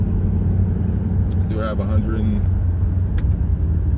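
A 2005 Ford Mustang GT with over 100,000 miles drives at low speed, a steady deep engine rumble heard from inside the car while someone speaks briefly over it.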